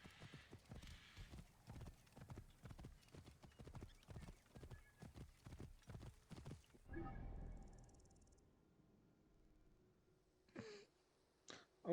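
Horse hooves clip-clopping in the video game Assassin's Creed Origins, a quick steady gallop of close, loud beats that stops abruptly, followed by a whinny and brief voices.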